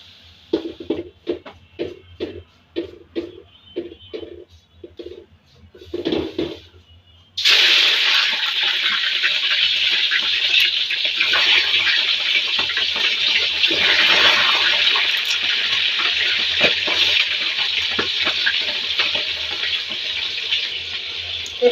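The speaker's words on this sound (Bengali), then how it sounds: "এখন আমি ইলিশ মাছগুলো ভেজে নিব।" Hilsa fish frying in hot oil: a few soft knocks and clatters, then a sudden loud, steady hiss of sizzling that starts abruptly and continues without a break, close and dense.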